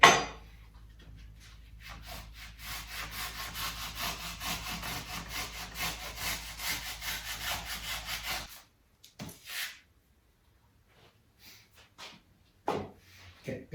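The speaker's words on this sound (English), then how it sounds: "So I'm just going to keep sawing" A hand saw rasps steadily back and forth through foam for several seconds, then stops, followed by a few scattered scrapes and quiet handling sounds, while repairing a Nissan 300ZX Turbo's foam/rubber rear part.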